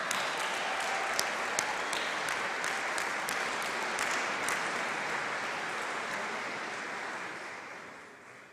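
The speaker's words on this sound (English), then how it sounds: "our graduates should be applauding their families" Sustained applause from graduates at a university graduation ceremony for the College of Arts and Law, a dense even wash of clapping that holds steady and then gradually fades toward the end.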